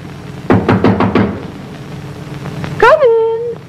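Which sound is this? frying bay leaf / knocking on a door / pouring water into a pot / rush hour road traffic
knocking on a door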